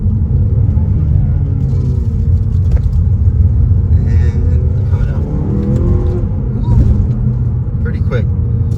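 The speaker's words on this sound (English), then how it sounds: "But throwing it in right here, we'll downshift." A 2022 Mazda CX-30 Premium engine revs and rumbles through a downshift, with a voice talking over the steady engine noise.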